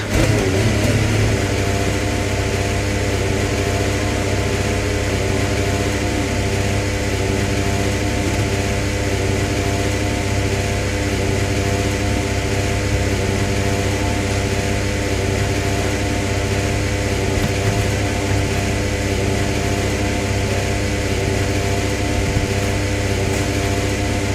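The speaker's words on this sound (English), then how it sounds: "Okay, engines fired up, we're set." Formula 1 car engine in the F1 25 racing game at Austria, idling and revving steadily for the whole stretch, loud and close with a dense harmonic drone, nobody talking.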